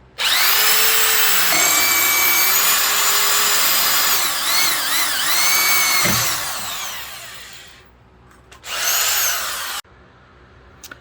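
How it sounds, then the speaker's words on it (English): A power drill whines loudly as it bores into a steel bumper frame, the pitch shifting as it cuts, then stops, followed by a second short burst of drilling. "since I already have 1 hole, I'm just going to drill 2"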